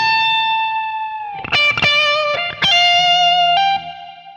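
Distorted electric guitar runs through lick one of a song: a long held note, then a burst of quick picked notes settling into another sustained tone, with no voice over it.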